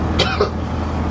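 A man coughs twice in quick succession, close by, over a low steady rumble of traffic.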